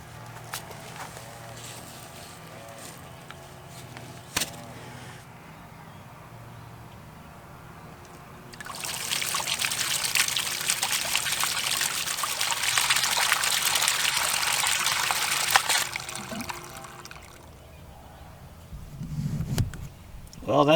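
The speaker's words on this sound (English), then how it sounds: "turn on our valve, and let's flush out that black line" Water rushes through a half-inch black PEX line as a valve is opened to flush it before a frost-free yard hydrant goes in. A loud, steady gush follows a quieter stretch of handling noise, runs about eight seconds, then cuts off.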